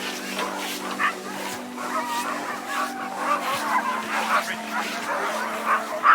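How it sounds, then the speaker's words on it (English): A large kennel of about two hundred huskies yips, howls and whines together in a continuous, overlapping chorus that sounds close and fairly loud, with a steady low hum underneath. "we were greeted with the voices of 200 happy huskies just waiting to greet us"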